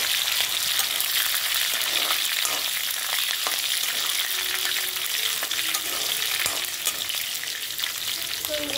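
Curry leaves and green chillies frying in hot oil in a pan for a ridge gourd curry, giving a steady, loud, continuous sizzle and crackle with occasional stirring scrapes, no voices.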